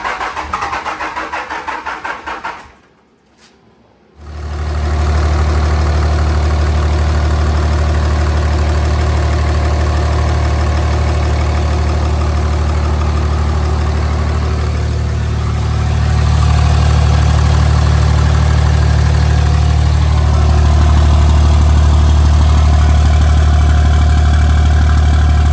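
A third-generation Dodge Ram with a Cummins 5.9 diesel, new turbo and open downpipe, cranks and fires up, then idles loud and steady with a deep rumble that rises slightly later on.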